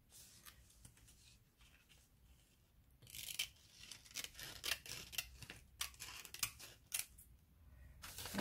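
Scissors snipping through paper or plastic craft material close up, quiet at first and then a rapid run of sharp, crisp cuts in irregular bursts, with no talking.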